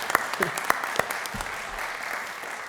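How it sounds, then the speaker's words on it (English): Audience applause at an award ceremony, a few sharp claps at the start spreading into a steady, moderate wash of clapping that carries on alone to the end. "So go ahead, applaud."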